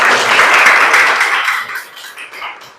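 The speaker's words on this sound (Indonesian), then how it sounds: "Ya, kasih aplaus." A classroom of students claps together in a dense burst of applause that starts full and loud, then thins into scattered, fading hand claps.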